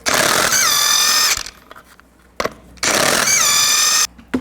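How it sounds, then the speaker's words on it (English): An impact wrench with a 22mm socket spins lug nuts off a 1999-2007 Chevy Silverado 2500 wheel in two loud, close bursts of about a second each, separated by a brief pause and clanks. "Take the lug nuts off, use the same 22mm socket."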